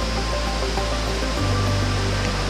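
A waterfall on a trek near Dehradun, India, gives a loud, steady broadband rush of falling water that fills the whole scene.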